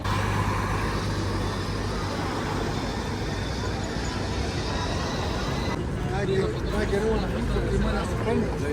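A double-decker bus rides through London with a steady engine and road rumble and traffic noise around it. Voices talk close by over the hum, and the sound shifts a bit near the end.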